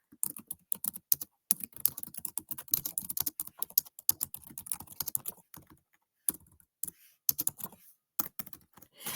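Fingers type on a computer keyboard at close range, clicking in quick uneven bursts with short pauses between phrases and no voices.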